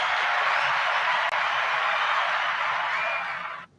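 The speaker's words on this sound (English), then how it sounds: "Ooh, that was a long applause." Sustained audience applause and clapping at a live talk show, loud and dense, holding steady for several seconds before cutting off abruptly near the end.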